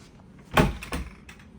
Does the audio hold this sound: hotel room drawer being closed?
yes